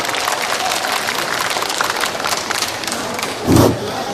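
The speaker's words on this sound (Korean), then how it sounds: "박수로 환영해 주시면 감사드리겠습니다" Audience applause at an outdoor national Pumba gakseori folk performance contest in Muan, welcoming the head judge before an awards ceremony; a steady wash of clapping from a crowd that swells briefly near the end.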